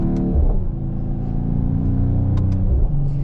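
A Mercedes-AMG GT 43 engine rumbles steadily at a low pitch, with a brief rise in revs near the start and a couple of faint clicks.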